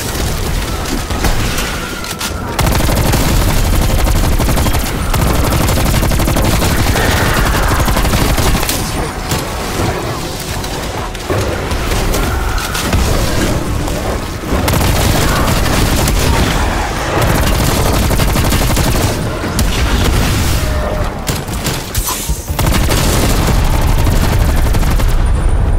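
Dense weapon fire in the round-based zombies mode of Black Ops Cold War, on the Forsaken map: loud, continuous bursts of automatic gunfire with booming impacts and short gaps, with occasional player talk underneath.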